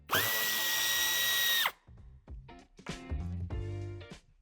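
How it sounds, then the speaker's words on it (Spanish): Power drill whirring steadily for under two seconds as it removes a screw from the corner of a 2022 BMW X7 (G07) bumper, then stopping, followed by quieter clicks and handling noises, loud and close. "Quitaremos el tornillo"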